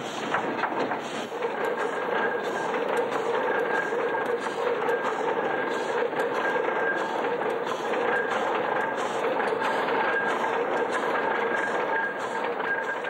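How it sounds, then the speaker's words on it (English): Two steam digger engines and a turntable run on compressed air, producing a steady, dense mechanical hiss and chuffing rumble that stays constant and fairly loud with no voices. "the apprentices held their own trials of the two engines and the turntable, powered by compressed air."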